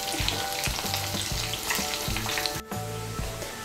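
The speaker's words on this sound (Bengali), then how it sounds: "মাছগুলোকে আমি লাল করে ভেজে নিয়েছি।" Katla fish fry in hot oil in a kadai, a continuous loud sizzle and crackle with soft rhythmic thumps of stirring throughout, no voices.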